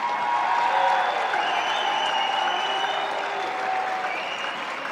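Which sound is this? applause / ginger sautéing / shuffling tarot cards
applause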